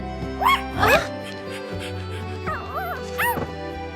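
A puppy in an animated scene yips and whimpers in several short, high-pitched bursts, with quieter whines between them and faint background music.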